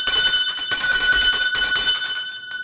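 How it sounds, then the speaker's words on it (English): A bell rings in bright, repeated bursts with short gaps between strikes, loud and alone. "I want to ring that bell for her, welcoming another young lady to the sport of cycling."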